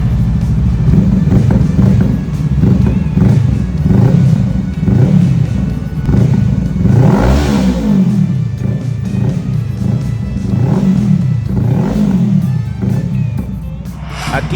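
Honda Rebel 500 motorcycle fitted with a new Villain Renegade slip-on exhaust, revving loudly and repeatedly close by, the deep engine note rising and falling in steady bursts with one sharp climbing rev midway.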